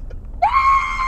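A person imitates a goat's scream with one loud, strained, wavering bleat-like cry that starts abruptly and holds steady, heard up close against a faint background.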